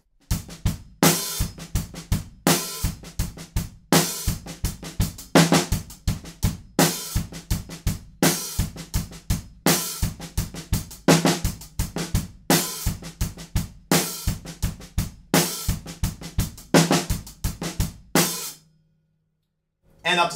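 Drum groove on a kit, with steady kick and snare backbeats, quiet ghost notes and sizzling hi-hats opening on beats two and four. It repeats evenly for about eighteen seconds, then stops briefly before another hit.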